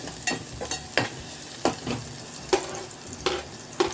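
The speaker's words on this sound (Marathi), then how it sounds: "थोडंच तेल टाकून आता मी फोडणी घालत आहे लसूण टाकते फोडणीला" Garlic sizzles in a little hot oil for tempering, a soft steady fry broken by several sharp clinks of a stirring spoon against the pan.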